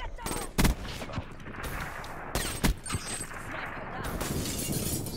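Sniper gunfire in a first-person shooter video game, a few sharp cracking shots with shattering impacts set against continuous game noise, fairly loud and close.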